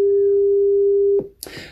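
A 400 Hz pure tone, an octave above 200 Hz, holds steady and loud for just over a second, then stops abruptly, followed by a short burst of noise.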